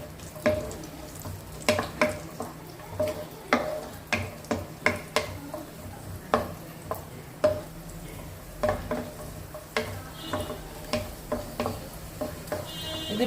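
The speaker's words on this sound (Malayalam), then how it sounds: "ഉണക്ക മുന്തിരി അതും കൂടെ ചേർത്ത് കൊടുത്തിട്ട് നമുക്ക് നന്നായി ഒന്ന് മൂപ്പിച്ചെടുക്കാം" Raisins fry in a pan for green gram halva, giving an irregular run of sharp pops and crackles over a quiet sizzling bed, some bursts louder than others.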